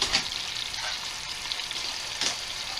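Sausage fries slowly in melted butter in a pan over moderate heat, giving a steady soft sizzle with faint crackles throughout and no talking.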